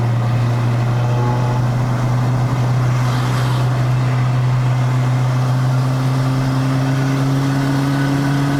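A Perodua Bezza 1.3L with a bolt-on turbo climbs a mountain road, its engine droning steadily at high revs with a slowly rising pitch, heard from inside the cabin.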